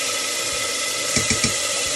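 Olive oil heated in a pan for homemade spaghetti sauce sizzles with a steady, close, bright hiss, broken near the end by a few soft, quick thumps.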